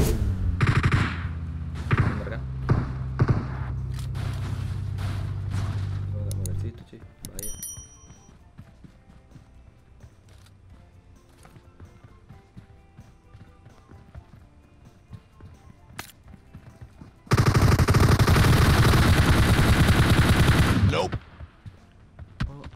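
Gunfire in PUBG cracks out in bursts from a distance, loudest in a dense volley near the start and again in a heavy stretch late on, with quieter game ambience between.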